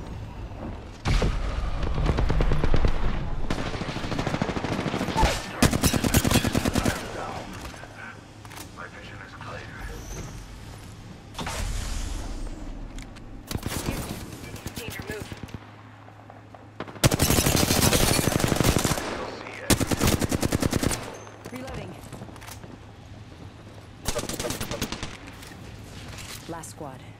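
Bursts of automatic gunfire and booms in the Apex Legends battle royale game, loud rapid volleys coming in repeated clusters with gaps between them, and brief voice callouts mixed in.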